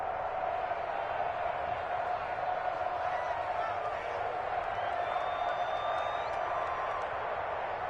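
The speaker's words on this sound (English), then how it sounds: "And the home crowd applauding." Home crowd in a PS4 basketball game roars steadily throughout, a dense wash of cheering with scattered whoops and applause under faint commentary.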